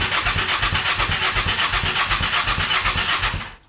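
A Honda Shadow motorcycle engine running on a cold start, with a loud, close, rhythmic pulsing beat that holds steady and then cuts off abruptly at the end.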